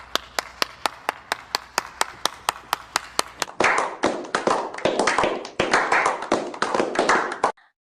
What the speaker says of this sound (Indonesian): Jangan lupa beri tepuk tangannya.